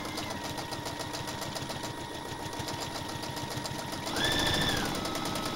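A sewing machine stitches an appliqué onto a baby quilt with a steady, fast mechanical whirring and rapid needle ticking that runs throughout. A brief high tone sounds near the end.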